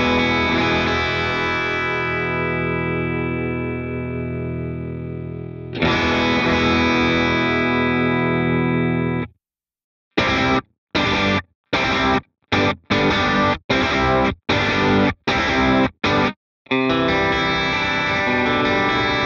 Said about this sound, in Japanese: ジャキジャキっとしながらも腰のあるクランチサウンド